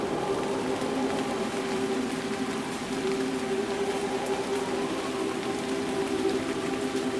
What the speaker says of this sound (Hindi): वह सर्द हवाओं की सरसराहट और बसंत में नए पत्तों पर गिरती वर्षा की बूंदों का मधुर संगीत सुनने लगी।